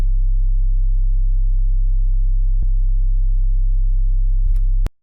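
A fat sub bass synth from Serum 2 in Ableton holds one deep, sustained low tone, steady and loud, with a couple of tiny clicks before it cuts off sharply near the end.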